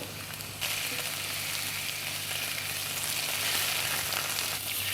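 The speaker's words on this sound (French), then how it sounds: "Donc on le laisse bien se saisir, c'est ce qui aussi enlève son côté noir." Artichokes salted with fine salt sear in a pan, giving a steady close sizzle that jumps louder after a moment and then holds a bright, even hiss.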